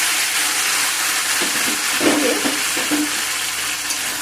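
Spinach greens paste hitting hot oil with tempering spices in a pan, giving a loud, steady sizzle and hiss with brief stirring scrapes partway through.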